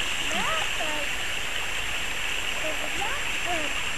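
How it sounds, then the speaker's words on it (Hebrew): Steady rushing water of the Shofet stream in the Ramot Menashe hills, a constant broadband wash with faint bird chirps scattered over it. "זה נחל, שלב? שלב אומר שזה נחל"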